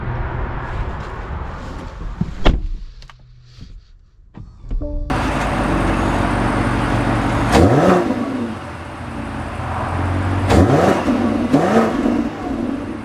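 A 2025 BMW X7 M60i, a V8 SUV, drives off, its engine rising in a couple of strong accelerating surges after a few quiet clicks and thumps, with a steady road and engine roar in between.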